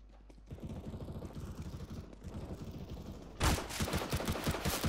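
Rapid MP9 submachine gun fire in CS:GO rattles out in dense bursts, a moderate stretch first, then a sharper, louder burst after a brief pause, with no talking over it.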